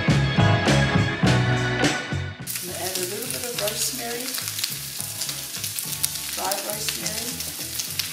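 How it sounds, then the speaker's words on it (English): Leftover pulled pork and potatoes brown in a hot pan, loud crackling sizzle with stirring and scraping throughout, after a short spoken phrase at the start. "we are just going to brown our pork"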